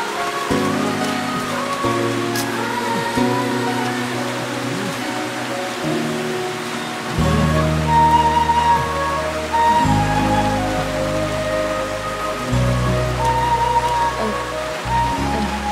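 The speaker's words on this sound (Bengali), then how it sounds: "দেখেছো বৃষ্টিটা আবার কেমন বেড়ে গেল।" Heavy rain falls in a steady, dense patter that holds loud throughout, mixed with low droning background tones and no clear speech.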